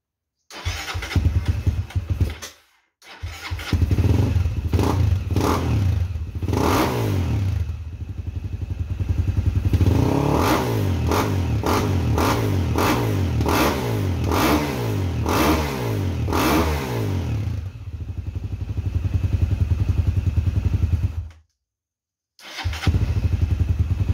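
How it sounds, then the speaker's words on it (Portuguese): Honda XRE 300 motorcycle engine bored out to 344 cc cranks and catches, then revs repeatedly in rising and falling bursts, close and loud, cutting off briefly twice before restarting. "Vou dar uma ligada ali para vocês verem."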